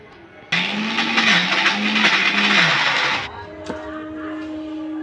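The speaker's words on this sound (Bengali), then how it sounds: "ডালটাকে আমরা মিক্সারের মধ্যে বেটে নিচ্ছি" An electric mixer grinder grinding soaked urad dal starts abruptly with a loud whining motor roar that wavers in pitch for a few seconds, then stops, leaving a faint hum.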